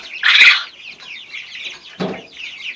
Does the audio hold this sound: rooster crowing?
yes